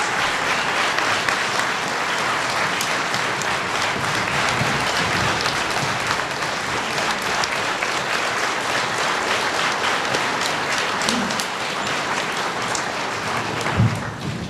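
Sustained applause from an audience giving Cindy a standing ovation at a school salute to veterans, dense steady clapping filling the hall from start to finish with no talk.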